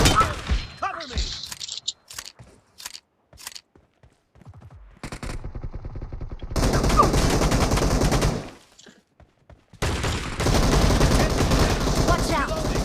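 Shotgun fire in the mobile battle royale game PUBG Mobile comes in sharp scattered blasts, then long dense stretches of rapid gunfire with game effects.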